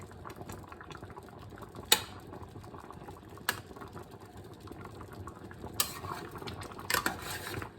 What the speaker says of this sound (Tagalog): Pwede na ko siguro haluin.